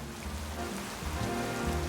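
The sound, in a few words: rain in video game Pokemon Legends Z-A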